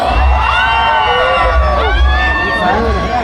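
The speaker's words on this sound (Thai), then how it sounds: "อยากได้ยินเสียงกรี๊ดจากสาวๆ ที่อายุไม่เกิน 18 ปีหน่อยแล้ว" A loud crowd shrieks and cheers continuously, high excited voices overlapping in a dense, sustained roar.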